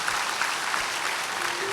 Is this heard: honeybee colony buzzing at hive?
no